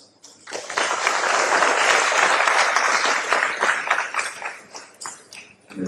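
Audience clapping at a Tamil-language event with students and a speaker: clapping swells in quickly, holds as a loud, dense roar, then thins into scattered claps before a final rise.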